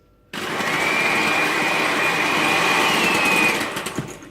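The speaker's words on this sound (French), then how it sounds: "Nous allons maintenant monter notre eau de conservation en neige comme pour les blancs d'œufs avec un batteur électrique" An electric hand mixer whips chickpea water (aquafaba) into foam, its motor starting abruptly and keeping a steady, close, high whine for about three seconds before slowing and winding down.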